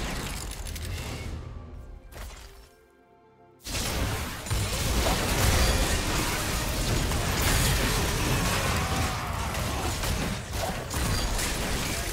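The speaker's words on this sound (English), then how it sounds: "Turret has been destroyed." A turret is destroyed in a League of Legends match, heard as a dense roar of crashing, crumbling explosion noise that cuts in after a short lull and stays loud and sustained under game effects.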